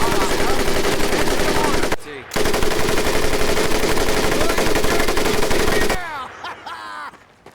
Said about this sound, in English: the M1919A4 30 caliber machine gun